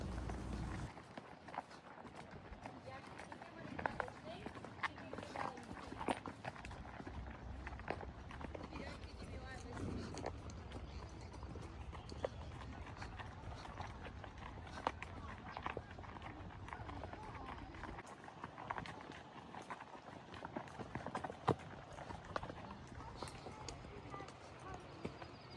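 Horses walk along the Bow River on a Bow Valley loop trail ride near Banff, their hoof steps and movement rustling steadily beneath continuous talking.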